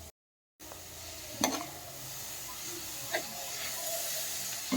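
Beetroot stir-fries in a pan of oil tempering with chili powder for palya, giving a soft continuous sizzle with a few sharp stirring scrapes and clinks, close but quiet, with no talk.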